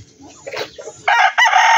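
A rooster crows loudly nearby, a long strained call broken into two bursts after some faint clucking.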